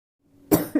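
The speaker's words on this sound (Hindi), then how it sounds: "बीच बीच में थोड़ा सा गला भी मेरा ख़राब है तो बीच बीच में खांसी भी आ जा रही है" A woman with a sore throat gives a single close cough, a sharp burst followed by a smaller second catch, after a faint breath.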